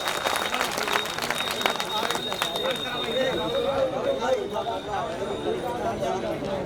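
A crowd at a public political rally claps to welcome the chief guest, a dense patter of applause under a voice speaking over a loudspeaker, with general chatter in the background.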